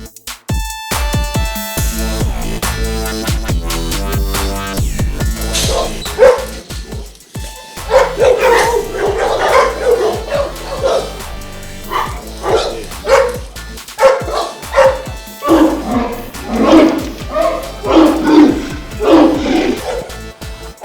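French Mastiff dogs bark at a kennel, a deep, heavy bark repeated loudly and close in irregular bursts. A dense, music-like layer sits underneath, strongest at the start.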